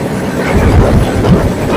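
The Tirupati–Secunderabad Vande Bharat Express rushes past at close range, a loud, steady low rumble with faint clattering of wheels on track and no voices.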